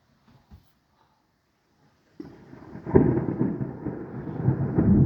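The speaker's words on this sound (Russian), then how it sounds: "Как же громыхнул-то. Офигеть. Вот это гроза." Thunder rumbling during a strong approaching thunderstorm with wind and lightning, a loud rolling crack that starts suddenly after near silence and keeps booming and rumbling.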